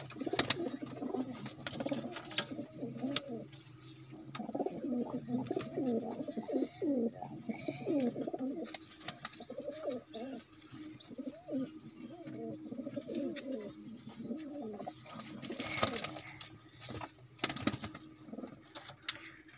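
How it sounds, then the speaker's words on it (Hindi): Pigeons in a loft coo in repeated soft, throaty bursts close by, with someone talking intermittently over the birds. "इसके साथ ये कबूतरी है।"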